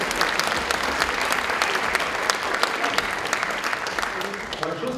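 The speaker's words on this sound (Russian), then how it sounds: "Сильные аплодисменты." Strong applause from a large audience at a Chuvash national congress, dense sustained clapping filling the room, loud and continuous with a faint voice beginning near the end.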